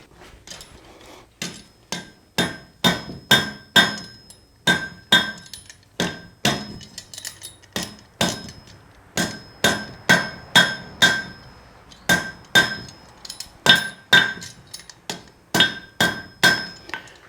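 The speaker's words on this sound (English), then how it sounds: "keep your hammering light to start with until you get a good table" Hand hammer forging hot steel into a meat hook on an anvil: a long run of sharp, ringing metallic strikes in steady groups, close and loud, with short pauses between bursts and no talk.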